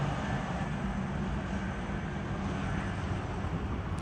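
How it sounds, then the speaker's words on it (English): A UPS cargo plane passes near a Dallas-Fort Worth transit station, giving a steady, broad engine roar that stays at an even loudness for several seconds with no talking. "I did end up seeing this UPS plane"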